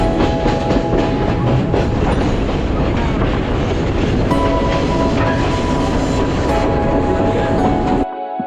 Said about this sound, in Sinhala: අපි දැන් ඉන්නේ බදුල්ල රේල්වේ ස්ටේෂන් එකේ.